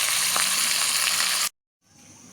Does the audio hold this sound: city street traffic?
no